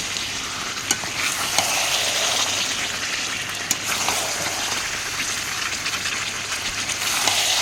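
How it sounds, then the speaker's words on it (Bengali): Spiced curry sautéing in a pan over a wood- or coal-fired clay stove gives a steady, close sizzle and fry, with occasional scraping stirs and ticks of the utensil and no voices. "দেখো কষানো প্রায় আমার হয়ে গেছে।"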